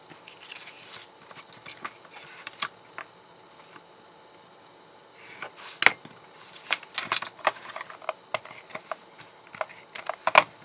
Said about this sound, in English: then you're just going to score on the diagonal